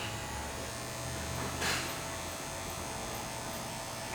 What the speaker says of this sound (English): I'm corner cutting with the right side of the clipper